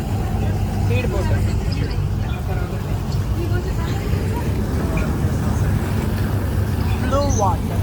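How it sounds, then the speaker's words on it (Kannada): A speedboat engine drones steadily across open water off the Maldives, a dense low rumble mixed with rushing wind and spray, close and continuous throughout, with voices faintly underneath. "speed boat"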